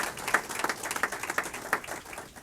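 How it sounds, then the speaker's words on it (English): Audience applause at a mayoral bill-signing ceremony for a driver's safety amendment, a light, fairly faint patter of scattered hand claps with a few sharper individual claps standing out. "now you all got to give her as much applause as you gave Roxana"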